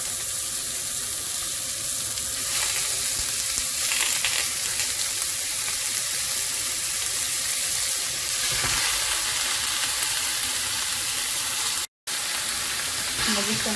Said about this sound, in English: I'm going to add just a little bit of avocado oil to get this ground meat started.